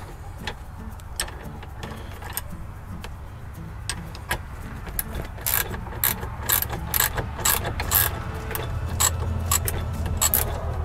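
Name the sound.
ratchet and socket tightening a nut on a bolt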